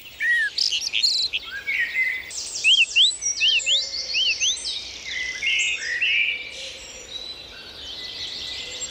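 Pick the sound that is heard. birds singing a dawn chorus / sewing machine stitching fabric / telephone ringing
birds singing a dawn chorus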